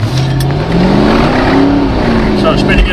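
A Corvette C4 convertible launches hard with its wheels spinning, its engine note rising in a loud, close roar over about three seconds, with a voice talking underneath.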